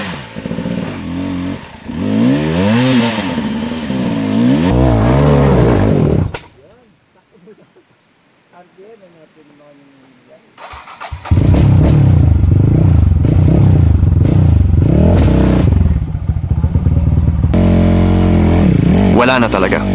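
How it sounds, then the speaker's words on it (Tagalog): A motorcycle engine with a low battery revs and sputters loudly and close by, drops to near silence for a few seconds, then roars back harshly. Voices can be heard over the engine. "Kaya ultimo motor niya pagod na nag-lowbat na baterya."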